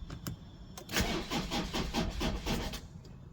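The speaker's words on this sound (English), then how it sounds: "now this should jumpstart the car" A car engine cranks repeatedly under a very small handheld jump starter, a rapid labored chugging that rises at about one second and churns on unevenly without catching, close and fairly loud.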